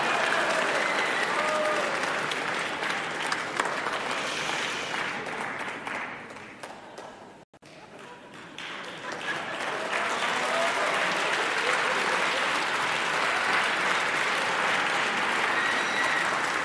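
A concert crowd at a band's show in Paris in 1982 claps steadily and loudly, the applause dipping briefly to near silence midway before surging back and continuing strong.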